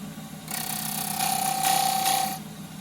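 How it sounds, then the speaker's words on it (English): Wood spindle turning on a lathe with a 3/8 spindle gouge, a close, sustained cutting hiss with a thin whine that swells for about two seconds and then stops. "I usually do this with the 3/8 spindle gouge, 3/8 flukes."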